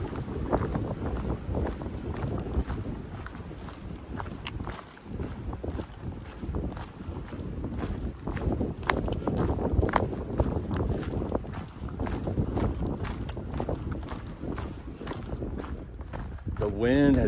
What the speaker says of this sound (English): The wind has definitely picked up in this area